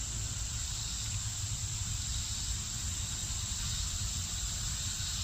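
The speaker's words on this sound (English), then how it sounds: "Cicadas are loud this morning, huh?" Cicadas buzzing loudly on a morning outdoors, a continuous high, shimmering drone that stays constant from start to finish, with a low background hum underneath and no speech.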